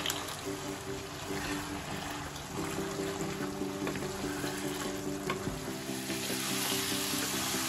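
Bottle gourd with shrimp and fried lentil bori sizzling in a pan over high flame, a steady close frying crackle with occasional stirring scrapes, no talking.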